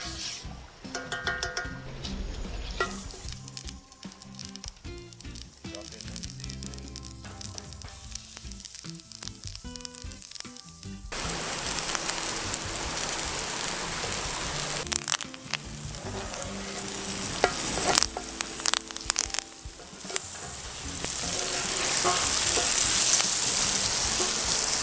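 Chicken wings fry in hot oil at an outdoor cook in Jamaica, giving off a continuous sizzle that grows louder in the second half, with occasional stirring scrapes from a wooden stick.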